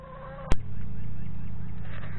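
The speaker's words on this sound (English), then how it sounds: "I got a little hen over here" A hen near a chicken coop beside a garden gives a short run of clucking calls at the start, then a sharp knock, followed by steady background noise for the rest of the clip.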